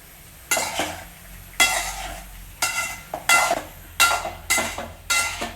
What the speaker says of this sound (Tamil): பூசணிக்காயை ஒரு பரட்டி விட்டுடலாம்